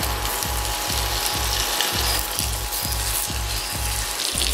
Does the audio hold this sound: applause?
no